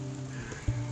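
Steady rain falls through the whole second in a continuous soft hiss, with a brief louder splash or patter near the end, collecting in a 6.5 gallon water jug of a rainwater catchment system.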